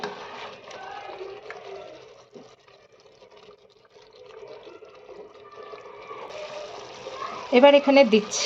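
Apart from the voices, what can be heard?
water being poured into chicken curry pot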